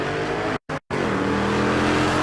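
A Malibu and a BMW drag racing down the strip at a Texas race week event, engines roaring loudly and steadily, broken by a brief cut of silence before the roar resumes.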